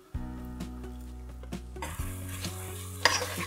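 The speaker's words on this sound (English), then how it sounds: "Give it a mix on a low flame." Spices and ground masalas stirred in a pan over a low flame for mutton pulao, giving a soft frying sizzle with several scraping and clinking strokes of a spoon over a steady low hum.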